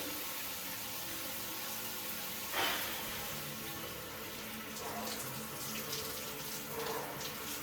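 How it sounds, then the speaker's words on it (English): A cold shower runs in a cabin bathroom, a steady hiss of water with a brief splashing burst partway through and faint shifting spatters after, close by and without talk. "cold shower every single morning, get it out of the way, just do it"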